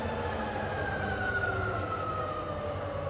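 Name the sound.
rebuilt Bridgeport milling machine spindle running in reverse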